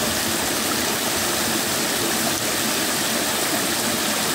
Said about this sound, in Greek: Το νεράκι που κατρακυλάει.